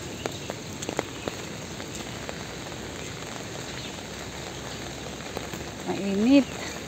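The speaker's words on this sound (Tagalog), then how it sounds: "Hindi, umuulan pala." Rain falls steadily outdoors, a dense, even hiss of drops on surfaces that continues throughout, with a brief louder swell just before the end.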